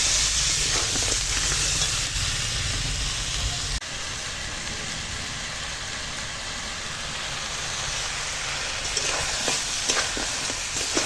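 Crab stir-frying in ground spice paste over a wood fire, giving a steady, loud, broadband sizzle and hiss that runs the whole length without pause, with faint scraping of stirring now and then and no talk.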